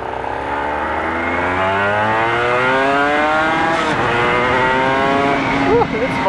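A Honda NSR250 two-stroke motorcycle engine revs up through rising gears, climbing pitch in long sweeps, loud and close, with a rider talking over it toward the end.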